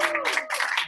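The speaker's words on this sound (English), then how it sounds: "One last round of applause for our Students of the Month." At an academy gala, the audience claps for its Students of the Month in a brief, dense burst, the crowd's clapping swelling in uneven pulses while a voice carries faintly underneath.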